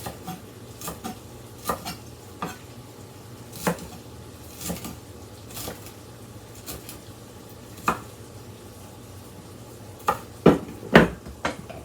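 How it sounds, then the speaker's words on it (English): A knife chops garden broccoli into small pieces on a cutting board, irregular sharp thunks spread across the stretch, with a quick cluster of louder strikes toward the end. "I'm going to cut them really small so they kind of melt into the soup"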